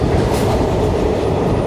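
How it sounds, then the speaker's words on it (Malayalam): Chennai Egmore–Guruvayur Express (16127) with LHB coaches running along the track, a loud, steady rolling rumble with a continuous wash of wheel and carriage noise and no voices. "അപ്പോൾ ഇതിൻ്റെ LHB കോച്ചുകൾ വരുന്നുണ്ട്."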